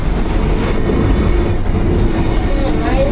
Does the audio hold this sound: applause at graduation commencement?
no